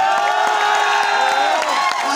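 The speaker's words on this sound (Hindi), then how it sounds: "ये चले और तालियों की गड़गड़ाहट" Crowd at a kabaddi match breaking into sustained applause and cheering, dense clapping with shouts and whoops carrying steadily throughout.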